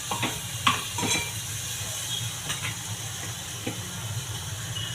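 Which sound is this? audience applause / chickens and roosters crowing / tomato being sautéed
tomato being sautéed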